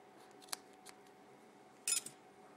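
Scissors snipping silicotton rayon wicking material, a few quiet close-up cuts with a sharper, louder snip near the end, otherwise a hushed room.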